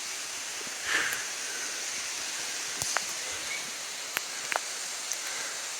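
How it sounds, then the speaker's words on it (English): Rain falls steadily in a Puerto Rico rainforest, a soft, even hiss with a few scattered drips and light taps standing out, fairly faint and with no talking. "it's raining in the rainforest"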